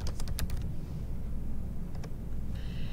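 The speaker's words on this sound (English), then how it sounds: "If I want to do text, I click on text and I type in a comment." Someone types a comment on a computer keyboard. A quick run of crisp key clicks comes first, then a couple of isolated taps, over a soft steady hum.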